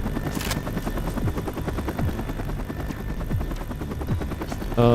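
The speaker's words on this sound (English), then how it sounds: "that's the exact same helicopter noise that they use in GoldenEye, too" Helicopter in the video game Agent 64, a loud, fast, even rotor thump that pulses steadily and unbroken from start to finish.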